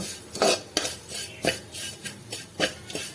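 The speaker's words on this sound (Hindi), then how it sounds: "सेवई को धीमी आंच में धीमे धीमे भूनेंगे," A spoon scrapes and clinks against a pan while vermicelli roasts slowly over low heat, making a series of about six distinct stirring strokes that are close and moderately loud, with no talk.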